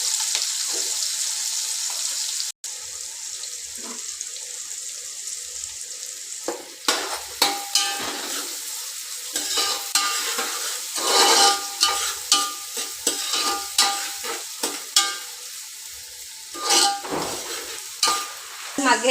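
Green chillies and onions fry in a pan for an egg curry, a steady sizzle broken by repeated scraping stirs of a spoon that grow busier and clatter more in the second half, with no talking.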